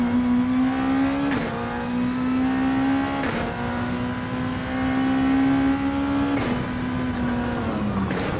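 A race car engine in Gran Turismo 7 holds a loud, steady high whine under full throttle, with several quick gear shifts that briefly drop the pitch before it climbs again.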